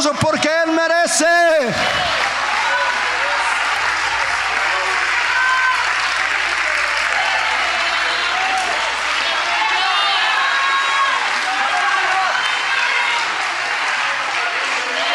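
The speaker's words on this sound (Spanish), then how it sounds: "Ponte en tus pies y dale un aplauso al Señor Jesucristo" A large church congregation applauds loudly and continuously, sustained clapping filling the space after a voice rings out briefly at the start.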